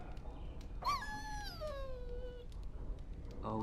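A dog in Dragon Age: Origins gives a single drawn-out, pitch-falling whimper lasting over a second, close and clear above faint background ambience, with a short whine starting again at the end.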